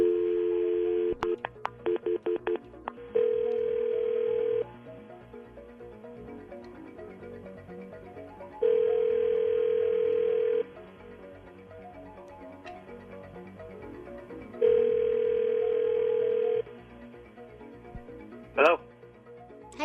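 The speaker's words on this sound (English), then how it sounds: "Let's just make the phone call and see what happens" A telephone call is placed: a quick burst of dialing tones, then three long ring tones spaced several seconds apart over a low murmur of background sound, ending with a brief click as the line connects.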